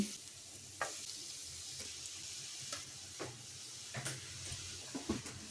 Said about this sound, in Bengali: এখন এই ঘিয়ের মধ্যে গাজরটা দিয়ে দিচ্ছি।